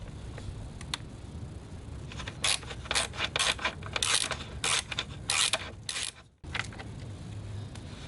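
Screws being backed out of a Honda radiator cowling with a ratcheting tool, a fast run of short clicking bursts, close and faint against a low background hum.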